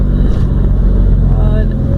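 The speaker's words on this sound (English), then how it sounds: "It's already 9:15 and it's heavy traffic right now." Dense morning road traffic rumbles steadily near by, engines droning with a passing horn-like tone, while someone talks over it.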